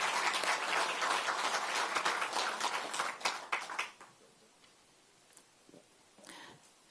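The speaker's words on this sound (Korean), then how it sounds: "여러분 힘을 실어 주시겠다면 힘찬 박수 부탁드리겠습니다" Audience applause at a Korean political rally, strong dense clapping for about four seconds that fades quickly into near silence with a few faint stray sounds.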